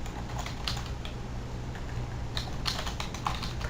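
Typing on a computer keyboard to enter a paper title, with quick, irregular light key clicks over a steady low room hum.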